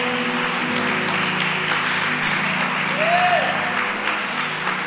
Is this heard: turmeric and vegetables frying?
no